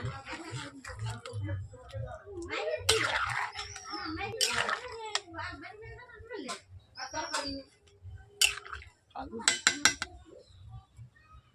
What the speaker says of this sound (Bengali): এইভাবে আমি ঘুঁটেও নেব যাতে গোড়া গোড়া ভাব না থাকে